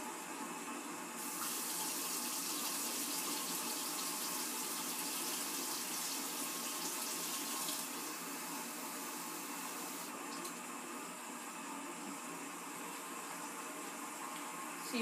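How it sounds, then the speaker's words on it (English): Ice-cold water runs steadily from a kitchen tap into a sink, a close, continuous hiss that shifts slightly in tone as the flow changes. "we get ice cold water, which is easy to get because we have ice cold water in the tap"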